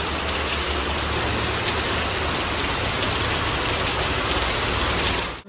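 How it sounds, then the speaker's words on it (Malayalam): Heavy rain pours down in a dense, steady roar close by, continuous and loud, with a faint engine-like hum underneath, during Onam in Kerala. "നല്ല മഴ പെയ്തു കേട്ടോ."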